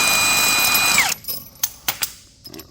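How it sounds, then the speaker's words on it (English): A power tool whines steadily on a double-threaded bolt in a snowmobile clutch, then winds down and stops, followed by several short metallic clicks and clunks as the bolt comes loose. "in order to pull this clutch off, we need to first take off this training bolt"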